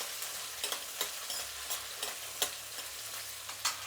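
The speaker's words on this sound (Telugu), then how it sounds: "ఇప్పుడు ఎర్రగడ్డలు వేసుకుందాం, కరివేపాకు వేసుకుందాం. ఎర్రగడ్డలు కొంచెం మగ్గాలండి" Onions and curry leaves sauté for sambar in a pan with a steady close sizzle, while a spoon stirs in regular scraping strokes several times over it, and no one speaks.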